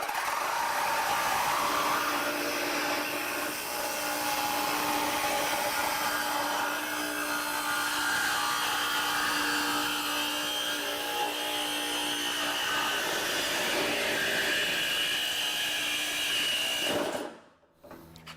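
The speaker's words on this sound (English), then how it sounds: "So we'll start with the jigsaw again and just see if it can complete the cut." A jigsaw cuts through ridged sheet-metal roofing with a loud, continuous high buzzing rasp that holds steady for about seventeen seconds, then stops abruptly.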